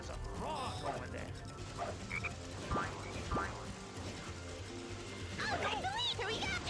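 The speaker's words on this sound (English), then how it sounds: "Hey, there's a frog over there." In the Sonic Heroes video game, a frog croaks repeatedly in bursts over busy game music and effects.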